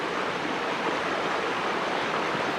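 Water pours steadily over a small weir along the Gorge track near Lake Catani on Mt Buffalo, a constant broadband rush close by with no voices.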